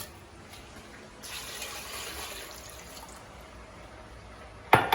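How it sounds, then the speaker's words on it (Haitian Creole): Two cups of water are poured into a cooking pot to boil vegetables for a potato and beet salad, a soft, brief splashing pour heard faintly, followed by a sharp clatter at the very end. "pour y a mettre de l'eau, on va mettre le bouillir. Prendre 2 tasses d'eau."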